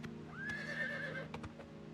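A horse in the video game Oblivion Remastered gives a loud, clear whinny while its hooves clop steadily beneath, with a few sharper hoof strikes toward the end.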